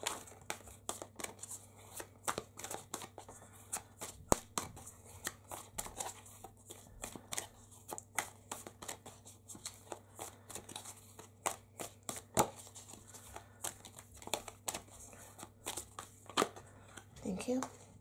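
Tarot cards are shuffled and drawn by hand, producing a steady run of soft, crisp flicks and riffles over a low background hum, close and fairly quiet throughout.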